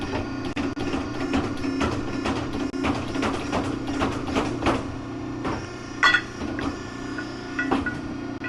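Piranha ironworker bending half-inch thick flat bar in its bender, a steady mechanical hum and whir with repeated rhythmic clunks and knocks, plus a couple of sharper metallic clacks near the end.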